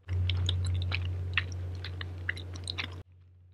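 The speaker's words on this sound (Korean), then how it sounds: "떡볶이 되게 오랜만에 먹어요" Close, wet chewing of tteokbokki, Korean spicy rice cakes, with soft squishy bites and small crunches over a steady low hum, then an abrupt stop near the end.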